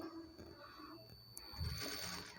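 A sewing machine stitches a blouse placket, a soft, fairly faint mechanical whir with light rhythmic knocking running continuously under a thin steady background tone.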